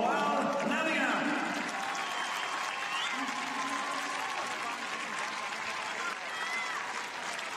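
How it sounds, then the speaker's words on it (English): Stadium crowd at the 2018 World Para Athletics European Championships applauding a new world record holder, a broad, sustained wash of clapping heard from a distance, fairly quiet and even throughout. "Spend a big applause for Roald Navia."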